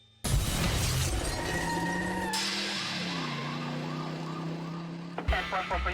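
A police siren wails over a loud engine rumble and chaotic noise, its tone sweeping up and down, close and harsh, ending in an abrupt crash.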